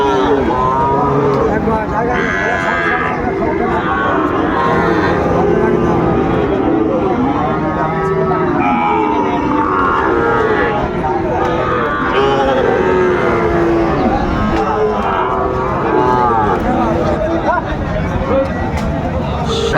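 Sahiwal bull calves moo repeatedly amid a busy cattle market crowd in Chittagong, with overlapping voices and background bustle throughout.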